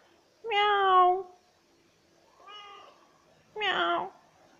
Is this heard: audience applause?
no